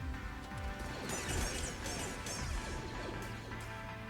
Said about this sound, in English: Watch this footage of Cal taking out numerous stormtroopers using a saber staff to turn their own blaster bolts against them.